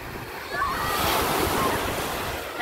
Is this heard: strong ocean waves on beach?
yes